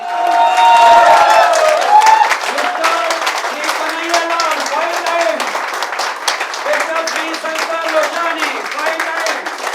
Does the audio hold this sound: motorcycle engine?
no